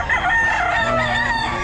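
A rooster crows loudly and close by at a pet market, a single drawn-out cock-a-doodle-doo call over faint background clucking and ambient noise.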